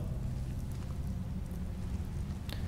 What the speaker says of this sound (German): Hier regnet es, quasi.